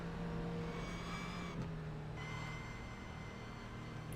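A race car in a racing game at Zolder drones steadily, its engine tone shifting as another car passes close by, with no voices over the continuous mechanical hum.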